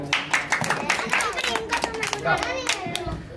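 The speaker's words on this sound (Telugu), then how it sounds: "క్లాప్స్ క్లాప్స్ కొట్టాలి" Several people clap in short, uneven bursts of applause for children at an apartment Ganesh pandal event, mixed with nearby chatter and voices.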